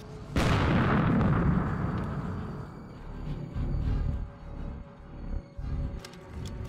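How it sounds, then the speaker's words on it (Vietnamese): A single loud gunshot cracks out in a Shanghai gangster martial arts film, its sharp burst trailing off into a long, rumbling decay, followed by lower scuffling noise. "Bắn súng vào chân của anh ta cho tôi."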